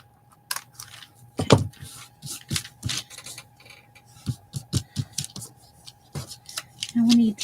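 Scissors cutting and snipping paper for a collage, a string of short crisp snips and clicks at an uneven rhythm, close by, with a steady faint hum underneath.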